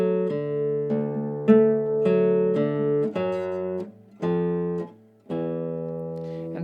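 A classical guitar playing Sons de Carrilhões by João Pernambuco, plucking ringing octave notes in short, separate strikes, close and clean, with brief gaps between groups.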